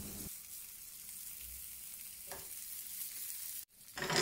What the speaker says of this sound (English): I prefer to pan fry the tofu until it forms a crispy exterior